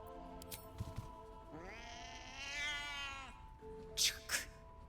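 In the video game Baldur's Gate 3, a cat lets out one long, clear, bending meow over quiet game music, followed by a couple of short sharp clicks.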